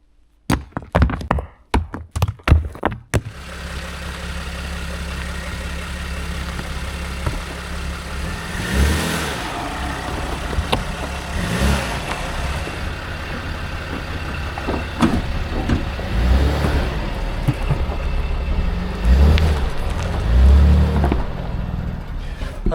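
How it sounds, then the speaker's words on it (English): Camper van engine rumbling as the van drives over rocks placed across a small ditch on a rough lake road, with a few sharp knocks and clunks at first, then steady low engine drone and occasional thuds and creaks. "put it where my wheels would go. So I just get that little bit of lift, which will allow my van to drive over this little ditch."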